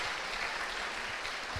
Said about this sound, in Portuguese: Aplauda bem forte para Jesus e ao João por me ajudar aí.